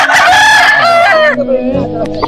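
A rooster, a fighting cock, crows loud and close in one long strained cock-a-doodle-doo that breaks into a rougher, falling tail, heard alone without talk.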